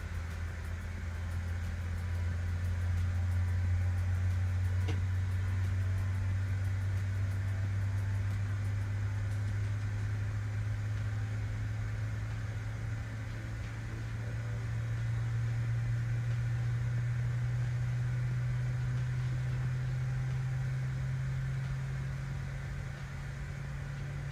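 A CRJ regional jet engine spools up in Microsoft Flight Simulator 2024, a steady droning hum whose tone slowly rises over about twenty seconds, with no voices.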